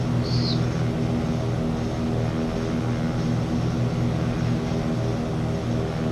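Airplane engine in Microsoft Flight Simulator 2024, a loud steady propeller drone with a layered harmonic hum holding constant for several seconds, a brief high chirp near the start, no talking.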